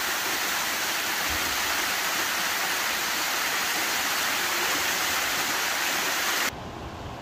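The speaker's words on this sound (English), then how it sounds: "I made it to Jones Gap Waterfall." Jones Gap waterfall on a hiking trail roars as a loud, constant broadband rush of falling water heard up close, cutting off abruptly to a quieter background near the end.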